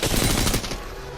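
An R-301 rifle in Apex Legends fires a rapid automatic burst, loud and close, with shots overlapping into a dense crackle before trailing off.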